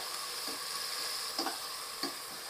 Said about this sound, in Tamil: இப்போ வந்து நம்ம ஒரு 200 கிராம்ஸ் வெங்காயத்தை சேர்த்துக்கிறோம்